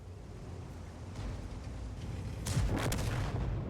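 Tank cannon fire in a tank battle video game: soft, distant booms, with a sharper blast and its rumbling echo toward the end, over a low background hum.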